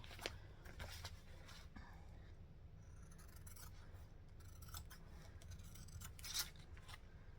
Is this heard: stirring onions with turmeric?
no